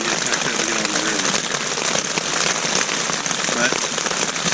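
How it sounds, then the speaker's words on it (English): Rain drumming on a tent during a river camping trip, a dense, close, continuous patter of drops hitting the fabric at a steady, loud level with no pauses. "I love the sound of rain on the tent"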